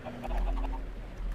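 Chickens in a Minecraft chicken farm holding about sixty birds, their clucks overlapping in a steady, busy chorus at moderate loudness.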